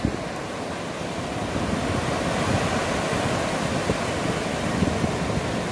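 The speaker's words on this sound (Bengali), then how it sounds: "একটা নতুন দিনে শুরু হচ্ছে সমুদ্রের ঢেউয়ের আওয়াজ দিয়ে।" Sea waves wash onto a beach in a steady, continuous roar of broadband surf, with gentle swells in loudness and no voices.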